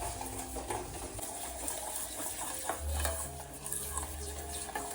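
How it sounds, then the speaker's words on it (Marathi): Sugar being stirred in a pan as it melts into caramel, a steady scraping and clinking of a utensil against the pan with a soft background hiss, close and continuous. "होय, पूर्णपणे आपण मेल्ट करून याचं कॅरमल करून घेऊया."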